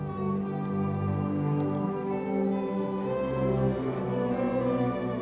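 Slow, sustained orchestral music, the classical piece Rosa Medra by a British composer, with long held string chords swelling gently, played continuously without voices.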